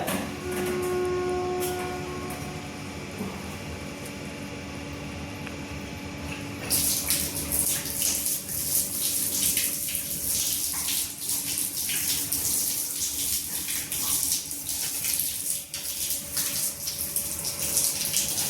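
Water rushes through the pipes of a newly installed Voltas geyser. A quieter mechanical hum gives way to a loud, steady gushing flow about a third of the way in, which keeps going to the end.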